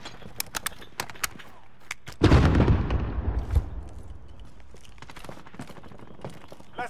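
A grenade explodes in a video game, a sudden heavy boom that rumbles for about a second amid scattered sharp clicks and distant game sounds.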